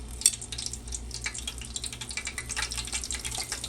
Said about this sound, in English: now I know my cooking oil is hot enough for the fish. So we're gonna put the fish in